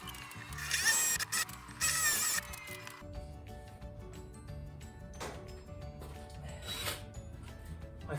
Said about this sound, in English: to drill this barrel hole in the door